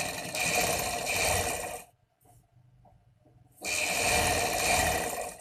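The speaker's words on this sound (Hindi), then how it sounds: "बिल्कुल इस पाइपिंग के साथ साथ सिलाई लगाते जाएं" Sewing machine stitching along piping on a kaftan dress, a steady close mechanical whir running in two bursts separated by a quiet pause of under two seconds.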